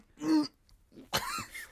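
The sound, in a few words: imitated cough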